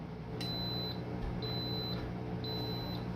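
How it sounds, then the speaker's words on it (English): An Instant Pot beeps three times, evenly spaced high electronic tones about a second apart over a constant low hum. "So now you'll hear a beep, beep, beep."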